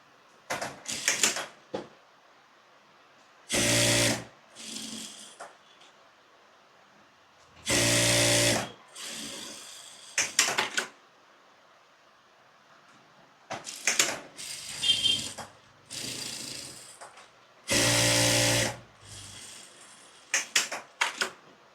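A sewing machine runs an extra line of stitching along the seam of a blouse, where the shoulder and sleeve join, in several short bursts separated by pauses, with a few softer clicks and handling noises between the runs.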